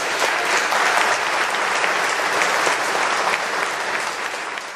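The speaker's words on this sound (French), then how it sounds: "je crois qu'on peut encore les applaudir" Sustained applause from a crowd for a brass band, steady clapping throughout that tapers slightly at the end.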